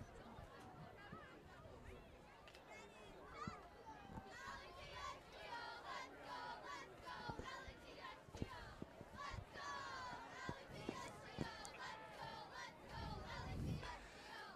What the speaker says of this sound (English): this crowd is ready to see something happen.